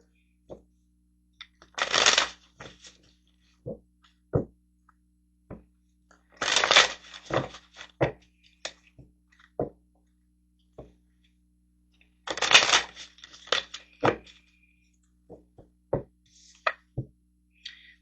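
Tarot cards shuffled in several bursts of crisp riffling and flapping, separated by soft taps and clicks of cards being handled and set down, close and fairly quiet with no talk.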